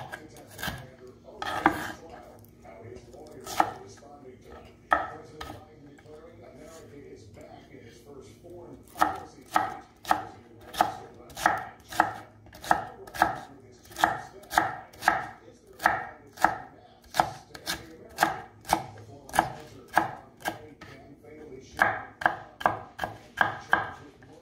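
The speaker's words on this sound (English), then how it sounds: "Green pepper I also cut small. First, cut stick like that, and then chop small." Green pepper chopped small with a knife on a board, a long run of sharp, evenly spaced knocks that speeds into a steady rhythm, close and loud, with a few scraping strokes at the start.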